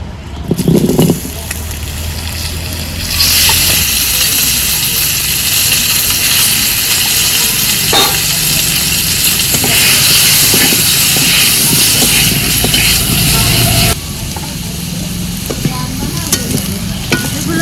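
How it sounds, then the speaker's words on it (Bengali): Potatoes fry in hot oil with a loud, continuous hissing sizzle that swells partway through. Occasional stirring scrapes sound close up. "এবার আলুগুলোও ভেজে নেব"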